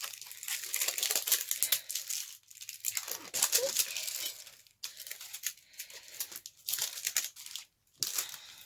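Paper crinkles and rustles in short bursts with pauses between, close and fairly quiet, like a wrapper being pulled open.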